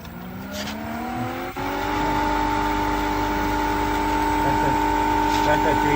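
A Black+Decker variable speed pool pump runs at 3000 RPM, making a steady, loud motor hum with strong sustained tones. The pitch settles and stays constant over a low rumble.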